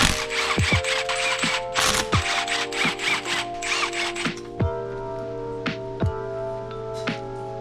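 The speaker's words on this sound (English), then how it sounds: "I'm gonna go ahead and pop off this clutch cover" A clutch cover is worked off a high-hour two-stroke dirt bike engine during a teardown, with repeated close ratcheting and rasping tool noises, sharp metallic clicks and taps, all over a steady background hum, with no talking.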